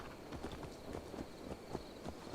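Horse hooves in Assassin's Creed Valhalla clop in a quick, faint, steady rhythm of walking or trotting steps, with no speech.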